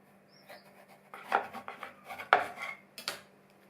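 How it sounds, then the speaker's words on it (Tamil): A knife cuts raw plantain into thick pieces on a board, a handful of close, irregular knocks and thuds spaced over a few seconds in a quiet kitchen. "கொஞ்சம் திக்காகவே கட் பண்ணிக்கணும்."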